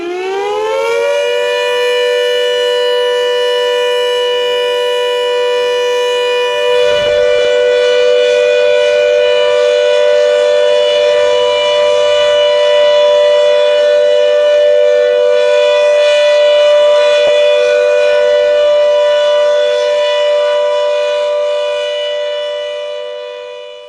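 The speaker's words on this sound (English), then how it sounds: "quite a few decommissioned air raid sirens remain abandoned and forgotten atop poles and buildings across Britain" A World War II era air raid siren, an old decommissioned British civil defence unit, winds up into a loud sustained wailing tone, holding steady and strong throughout with a slight dip partway through, then slowly tails off at the end.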